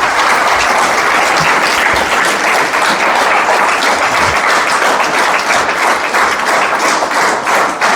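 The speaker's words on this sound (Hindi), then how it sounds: "एक बार जोरदार ताली बजा दीजिए।" An indoor audience at a motivational success seminar claps loudly and continuously, a dense, close wash of applause with no gaps throughout.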